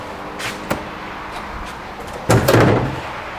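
The door of an old plow truck swings shut, a few light clicks and knocks leading to a loud, close slam with a brief rattle.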